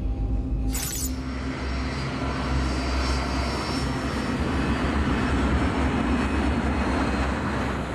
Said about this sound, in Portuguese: Quando a aeronave deixa o Heathrow, Key, nos controles, ainda estaria furioso